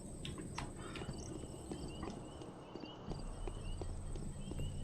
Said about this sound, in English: It sounds like you're running, but you're like going nowhere.